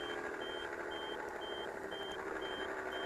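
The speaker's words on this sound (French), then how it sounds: "Petit bip de recul." A truck's reversing alarm in Farming Simulator 15 beeps in a steady repeating pattern of evenly spaced tones over a constant engine hum, moderately loud and close, with no voices.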